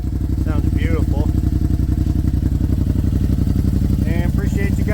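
A Yamaha RMAX 1000 side-by-side idles with a Richard Fochs exhaust tip, giving a steady, loud, throbbing exhaust pulse throughout, while someone talks over it.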